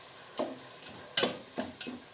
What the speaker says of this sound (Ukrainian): Аби томат пересмажити